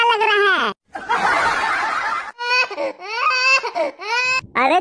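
A cartoon child wails in long, rising and falling sobbing cries, loud and close, broken by short pauses and a burst of noisy crowd-like sound.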